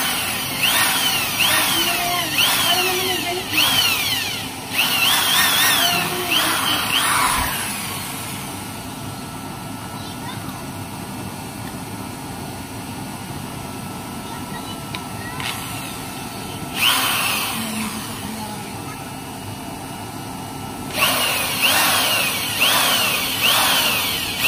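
Drill boring a series of holes into a nozzle burner, loud whining bursts of several seconds each separated by quieter pauses, close by with a steady background hum.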